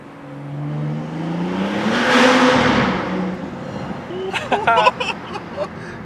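A BMW F30 340i with a catless downpipe pulls hard in second gear, engine note rising to a loud roaring peak as it passes under a small bridge, then fading. A voice speaks over the end amid sharp clicks and crackles.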